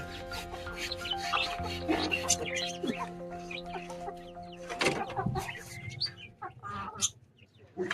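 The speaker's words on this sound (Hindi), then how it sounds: "और बाकी एक अपना ये अभी एक मुर्गा लेकर आया हूँ।" Low clucking from a rooster mixed with rubbing, scraping noises and steady background hum, a few sharper sounds scattered through.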